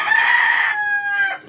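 A backyard chicken crows nearby, a loud, clear call that holds steady and then tapers off within about a second and a half, with no other sounds behind it.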